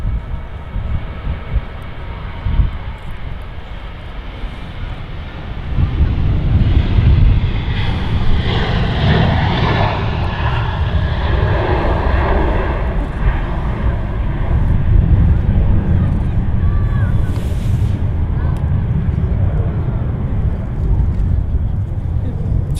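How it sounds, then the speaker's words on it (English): A Jet2 Boeing 737 jet roaring along the runway at Manchester Airport, a loud, steady rumbling engine wash that swells midway and holds, with someone talking over it throughout. "Jet2 737, not using a lot of runway compared to what they usually do"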